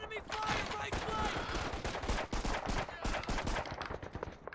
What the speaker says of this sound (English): Enemy fire, right flank!